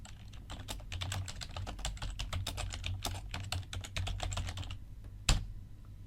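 Steady, fast typing on a computer keyboard as a comment is written, dense key clicks running for about five seconds with a low hum beneath, ending in one sharper, louder keystroke.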